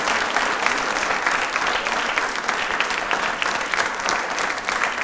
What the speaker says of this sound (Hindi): प्लीज़ अपने लिए एक बार तालियां जोरदार बजा दीजिए प्लीज़